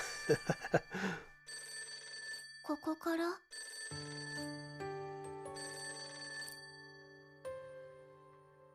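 A telephone rings in the video game Magia Exedra: sustained electronic ringtone bursts with bell-like tones, loud and repeating, after a few short knocking sounds, with a person speaking briefly over it.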